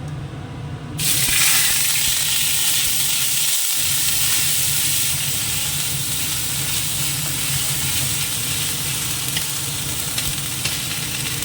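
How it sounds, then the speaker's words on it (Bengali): Ginger paste fries loudly in a hot pan, a dense, continuous sizzle that jumps in abruptly at the start and holds steady, close and without talk. "এবার দিয়ে দেবো একটুখানি আদা বাটা"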